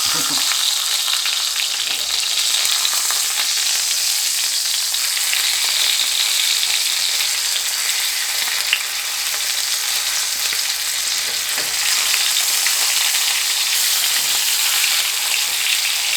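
Pork chops sizzling loudly in a pan, a dense, constant fry that runs unbroken from start to finish, close and with no talk over it.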